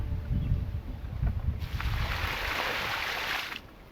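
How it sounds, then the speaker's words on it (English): Water is poured off a laundry bucket of hand-washed clothes during power-free washing: a close, steady gushing splash lasting about two seconds, after low handling knocks. "pour the water off."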